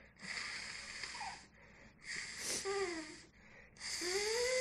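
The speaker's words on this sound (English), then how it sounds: "I got to blow my nose." Several loud nasal blasts in a row, each a broad wheezing honk with whistling tones sliding upward, separated by short pauses, heard up close with no talking.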